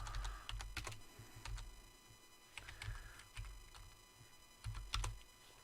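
Someone types code on a computer keyboard in short irregular bursts of close, crisp key clicks separated by brief pauses, over quiet room noise.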